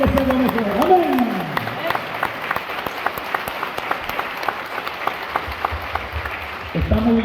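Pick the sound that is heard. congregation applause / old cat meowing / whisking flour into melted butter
congregation applause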